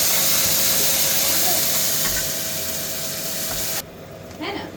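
Spice masala hits hot oil in a pan with a loud, broad steady sizzle and hiss that gradually eases, then drops sharply, leaving a quieter crackle near the end.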